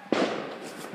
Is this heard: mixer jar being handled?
no